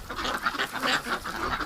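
A flock of ducks in winter, males and females together in the mating season, quacks in a rapid, busy chorus close by, with steady overlapping calls and no talking.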